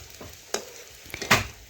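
Elephant foot yam fritters frying in oil give off a soft, quiet sizzle, broken by a few short scrapes and clicks of stirring, close by and without any talk.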